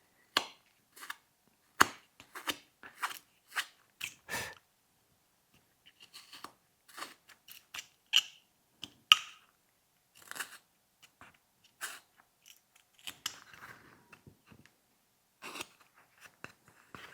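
A carving knife whittling a wooden snowman ornament, with sharp, close, isolated cuts and scrapes in irregular bursts separated by brief quiet gaps.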